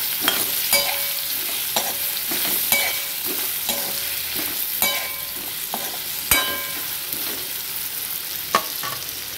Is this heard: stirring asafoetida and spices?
yes